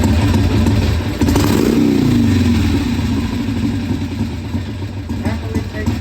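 A 1981 Harley-Davidson Ironhead XLH Sportster engine idles loudly and close up, with a brief rev in the middle. A voice talks over it throughout.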